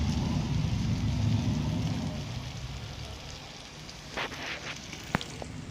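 Potatoes go into a hot pan, setting off a steady loud sizzle and crackle that gradually eases, with a few sharp clinks and knocks near the end.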